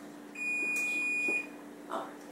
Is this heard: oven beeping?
yes